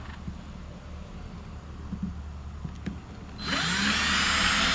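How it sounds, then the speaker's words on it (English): A power drill bores slowly through a boat's thick gunwale, starting near the end with a steady high-pitched whine after a few seconds of quiet handling noises. "And I'm just taking it nice and slow with the drill."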